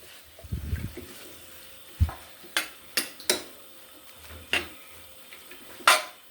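Chicken chow mein gets tossed in a pan with a metal utensil, giving scattered clanks and scraping stirs, several sharp knocks spaced through an otherwise quiet kitchen, no talk.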